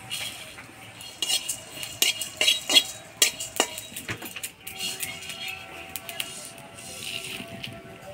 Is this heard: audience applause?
no